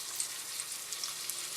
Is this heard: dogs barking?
no